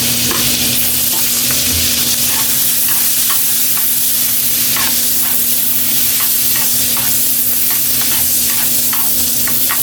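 Garlic sizzles loudly in hot margarine in a pan as a utensil stirs it with repeated scraping strokes, a continuous close frying hiss throughout, no talking.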